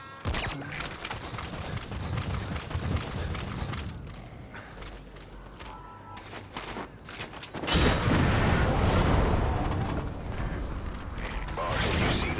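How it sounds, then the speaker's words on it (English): A crashed vehicle explodes in the video game Metal Gear Solid V: The Phantom Pain. A loud, broad burst rises midway through, over ongoing game rumble and mechanical clanks. "Explosion. There's smoke. The target's crashed his vehicle."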